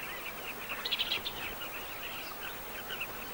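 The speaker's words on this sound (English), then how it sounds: "their regular route takes them close to a colony of carmine bee-eaters" Colony of carmine bee-eaters on the Zambezi riverbanks in the hot dry season, faint overlapping chirps and trills over a steady ambient hiss, distant and without voices.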